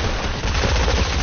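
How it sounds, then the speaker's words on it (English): Minigun fire in Fortnite: a loud, continuous rapid burst of gunfire rattles without pause for just over a second, with no speech over it. "I got a minigun"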